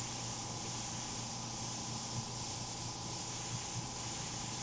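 An aerosol can of spray paint hisses in a steady, continuous stream while gray shading is sprayed over white on a painted portrait of realistic eyes, with no talking.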